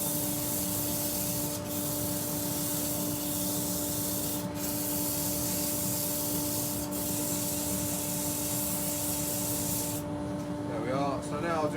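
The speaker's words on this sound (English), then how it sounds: "So again, another hand sand." Continuous abrasive rubbing of hand sanding wood on a lathe against a steady motor hum, with a few brief scraping bursts; the drone carries on throughout at close range.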